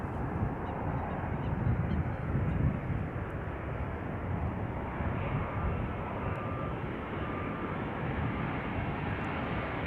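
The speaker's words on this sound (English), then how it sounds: "You can hear the airplane already," An Air Europa airliner arriving from Madrid at Amsterdam Schiphol Airport, its engines a steady, broad roar that holds loud and constant throughout with no talk over it.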